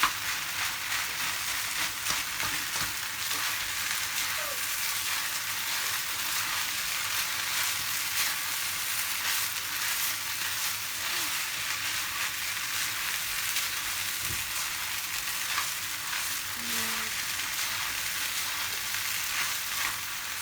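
Egg frying in a pan for chicken fried rice, a steady bright sizzle hissing continuously for about twenty seconds with faint occasional clinks, close and without talk.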